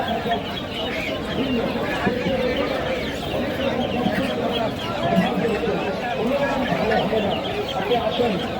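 Several chickens, local desi hens, cluck and squawk continuously nearby at an old rural livestock market, a busy overlapping chatter of a flock with no pauses.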